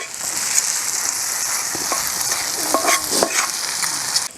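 Onion, tomato, ginger-garlic paste, mutton masala and chilli powder frying on a tawa, a dense, continuous sizzle broken by light scraping and stirring taps from a spoon, close and loud.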